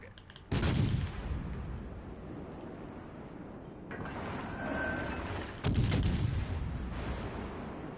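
Heavy naval gunfire from warships in World of Warships Legends, with two loud booming salvos about five seconds apart and a sustained rumbling roar between them.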